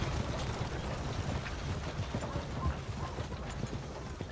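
Steady clip-clop of a horse's hooves in Red Dead Redemption 2, a dense run of hoof beats over a continuous bed of ambient game noise, with no voices.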